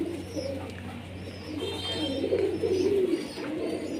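Soft, low pigeon cooing rises and falls close by, one drawn-out coo phrase over a steady background hum.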